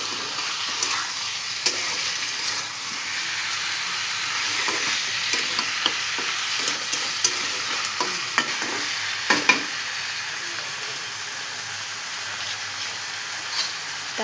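Chicken and potatoes fry in masala with a steady broad sizzle while a utensil stirs through them, giving scattered scraping clicks and taps across the whole stretch, close and fairly loud with no talk.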